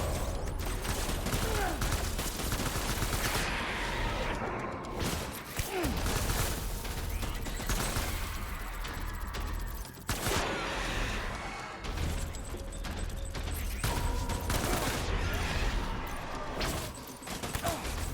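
Gunfire in the video game Death Stranding, a dense run of loud shots and bursts filling the whole stretch, with crashes and mechanical clatter mixed in and no speech.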